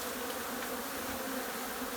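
A swarm of honeybees packed inside a hollow house wall drones in a dense, continuous buzz, steady and close, with no talk.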